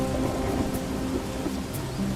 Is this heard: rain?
yes